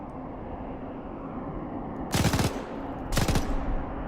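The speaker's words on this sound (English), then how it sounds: "Machine gunner with a World War II MG." Two short bursts of automatic fire from a World War II machine gun in Arma 3, each a rapid rattle of several rounds about a second apart, loud over a steady background hum.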